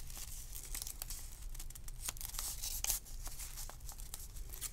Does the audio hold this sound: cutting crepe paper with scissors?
yes